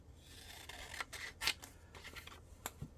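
Scissors snipping through paper for a collage desk placemat, several short crisp cuts close up and fairly quiet, with faint rustling between them.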